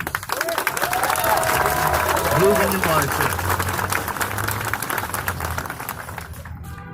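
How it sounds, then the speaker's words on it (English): An outdoor rally audience against police brutality claps in a sustained round of applause while a speaker talks over it, with scattered cheers and a voice rising through the middle before the clapping thins out at the end. "Round of applause, please."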